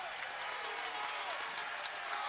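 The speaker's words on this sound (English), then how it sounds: "And this crowd's starting to get fired up now." Basketball arena crowd at a college game cheering and clapping, a dense, continuous roar of voices with scattered applause, heard from a distance under nearby commentary.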